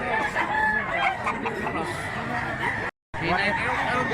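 A stag rooster at a gamefowl gathering in Mantalungon, Cebu, crowing in a loud, near call amid other fowl clucking, with voices in the background.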